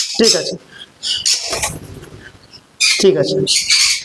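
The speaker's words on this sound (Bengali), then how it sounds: "কোবাল্টনের পাখি আছে" Shrill, chattering calls of exotic cage birds, including cobalt-coloured birds, come in bursts with short pauses between, close by and fairly loud, with faint background voices in the gaps.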